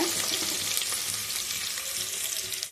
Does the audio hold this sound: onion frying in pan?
yes